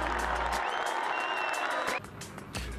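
Golf spectators at the 2023 Solheim Cup applaud an approach shot: a dense burst of clapping and crowd noise that drops off sharply near the end, with faint voices underneath.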